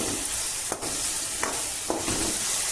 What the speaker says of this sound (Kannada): ಈ ಥರ ಎಣ್ಣೆಯಲ್ಲಿ ಬಾಡಿಸ್ಕೊತೀನಿ ಫಸ್ಟು